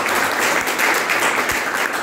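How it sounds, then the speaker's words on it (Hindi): Audience in a study-tips talk clapping steadily, a dense, fairly loud wash of hand claps that fills the whole moment without a break. "आपको अच्छा लगा होगा तो तालियां बजा दीजिए।"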